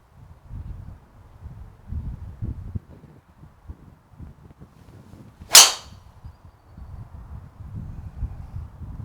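A single sharp crack from a Mizuno ST180 driver set at 9.5 degrees striking a golf ball outdoors, loud and brief against light wind and ambient noise.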